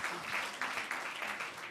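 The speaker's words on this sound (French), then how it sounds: "On peut vous applaudir." A studio audience at a French foundation panel on young people and caregiving careers applauds a guest, the clapping quiet and distant in soft, swelling bursts.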